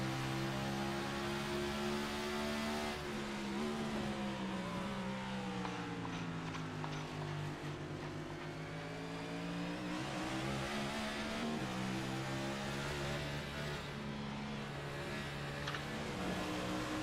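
Race car in a racing game lapping Watkins Glen: a loud, continuous engine note that climbs and falls with throttle and braking, broken by repeated upshifts and downshifts, with no talk over it.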